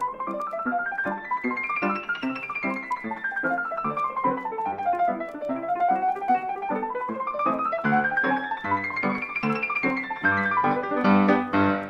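A 1969 piano recording digitally sped up by 39 percent: rapid cascades of notes sweep up and down the keyboard in fast, continuous runs, with a dense, bright and slightly unnatural tone throughout and no voices.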